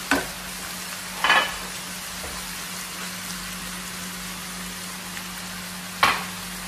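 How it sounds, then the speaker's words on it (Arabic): Chopped onions fry in oil and fat rendered from meat for kousa bil laban, zucchini cooked in yogurt. A steady close sizzle runs throughout, broken by two sharp stirring scrapes. "شوفوا تقلى بالزيت وبالدهن اللي طلع من اللحم"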